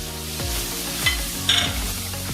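A spoon stirring chopped tomato and green chili frying in a pan, with steady sizzling and a few scraping strokes against the pan, close and clear, with no talk.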